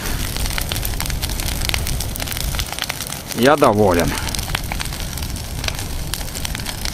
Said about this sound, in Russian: Добрый костер.